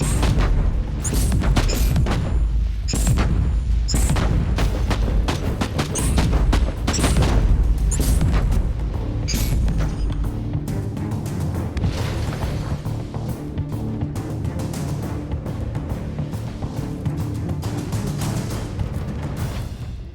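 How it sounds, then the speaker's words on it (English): A plasma gun fires in the action game Inquisitor Martyr with loud, booming bursts in quick succession, then settles into a rumbling roar of blasts and explosions. "Let's get the plasma gun back out."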